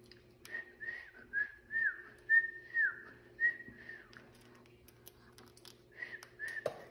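A melodic whistled tune of several short and sustained notes, rising and falling, close and clear, with a pause before two final notes and faint tapping beneath.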